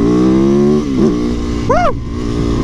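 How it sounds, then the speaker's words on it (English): Aprilia Tuono motorcycle engine idling steadily, then two quick throttle blips rising and falling in pitch, loud and close. "sometimes when I get on my Tuono, I'll blip the throttle."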